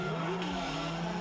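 A drift car slides on a track at a drift event in Logoisk, its tires letting out a steady, loud squeal over the engine's roar for the whole moment.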